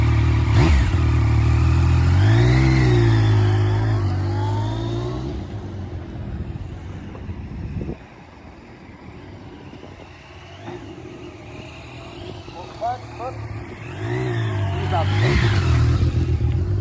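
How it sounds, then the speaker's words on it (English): A motorcycle works through rolling sharp turns, its engine revving hard up front, then easing off to a low idle before the throttle opens again toward the end, close by with a rider talking over it. "Give a little bit of speed, pull off the throttle to 0, lean the bike, and get it back on the throttle."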